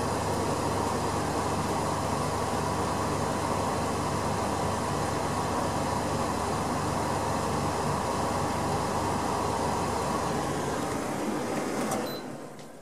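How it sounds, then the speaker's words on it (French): A Cecotec Clima 9050 portable air conditioner hums steadily with its fan and compressor running together, a constant dense whooshing drone that cuts off abruptly near the end, leaving quiet. "Et là, le compresseur vient de se mettre en route."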